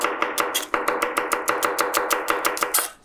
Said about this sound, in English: As you can see, I'm chopping the onion rather finely.